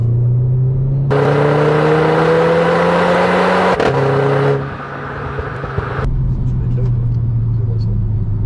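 A Renault Clio 4 RS Trophy engine revs hard during a 0 to 100 km/h run, climbing in pitch through a couple of gear shifts, then dropping to a lower steady drone, heard from inside.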